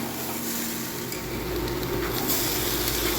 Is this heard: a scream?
no